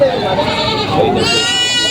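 A goat bleats loudly and close by in a sustained, wavering cry, with a second higher bleat following, at a goat sale in Padre Garcia, Batangas.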